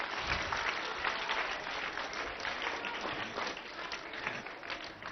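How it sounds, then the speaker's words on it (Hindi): An audience at a gathering at Acharyakulam in Haridwar breaks into sustained applause, many hands clapping densely and evenly throughout, fairly loud and filling the room without pause. "तो पॉलिटिक्स वालों के लिए भी ताली बजाइए एक बार।"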